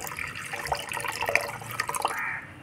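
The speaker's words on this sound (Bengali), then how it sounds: "কড়াটা বসিয়ে দিয়ে কড়াতে অল্প একটুখানি জল দিয়ে দেব।" A little water poured into a wok on the stove before lightly boiling flat beans makes a short, soft trickle and splash of about two and a half seconds, close up with no voices.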